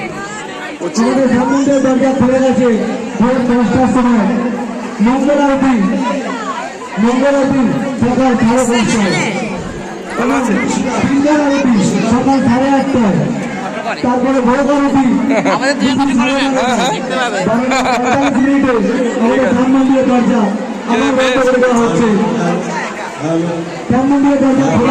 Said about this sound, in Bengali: প্রচুর ভিড় দেখতে পাচ্ছেন।